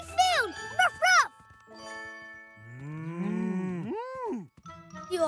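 A cartoon cow moos in a grassy field, with long drawn-out tonal calls in the middle of the clip, between bouncy jingling music and cheerful voices.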